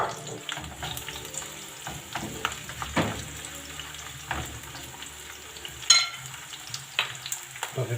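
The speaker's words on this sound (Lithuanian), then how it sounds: "pjaustom ir dedam su svogūnais, kad keptų" Sliced potatoes and onions frying in a pan for a tortilla, with a busy crackling sizzle broken by sharp clicks and scrapes of stirring, all close and without talk.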